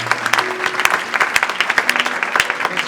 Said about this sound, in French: Je pense que ça mérite aussi encore un tonnerre d'applaudissements.